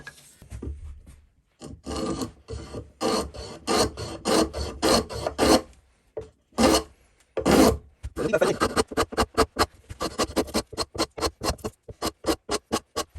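A handmade low-profile hand plane shaves a piece of wood in repeated rasping strokes, close and loud, starting in slower bursts and speeding into a quick regular rhythm of short strokes.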